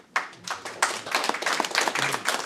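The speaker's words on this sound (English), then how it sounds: "we don't typically encourage clapping and cheering and that kind of thing in either direction" A small group clapping at a city council meeting, brisk irregular hand claps close by that start abruptly and continue steadily for a couple of seconds.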